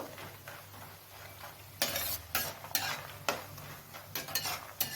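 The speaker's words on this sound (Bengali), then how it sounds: "বড়িগুলো হালকা লাল করে ফ্রাই করে নেব" Lentil dumplings (bori) frying in a pan, with soft sizzling beneath repeated scraping and clinking as a utensil stirs and turns them, close and fairly quiet.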